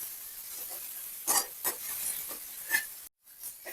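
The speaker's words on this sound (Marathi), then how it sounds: "आपला मसाला आणि टमॅटो छान आपल्याला तेलात परतून घ्यायचंय आहे" Masala and tomato sautéing in oil, a faint hissing sizzle broken by a few brief stirring scrapes and clinks, quiet and close with no talking.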